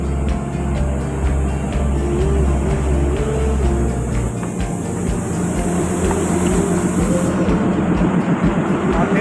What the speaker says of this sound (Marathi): ही आपली टॉय ट्रेन